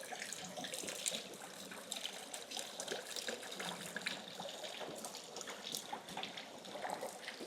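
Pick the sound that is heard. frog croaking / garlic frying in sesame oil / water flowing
water flowing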